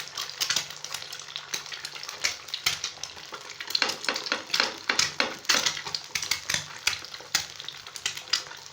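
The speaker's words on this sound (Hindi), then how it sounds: "अब मैंने 2 टेबल स्पून ऑयल डाला है और एक अंडा फ्राई कर लेंगे।" Egg frying in two tablespoons of oil for a club sandwich, a close, steady crackling sizzle with dense spattering pops and occasional utensil clinks, no voices.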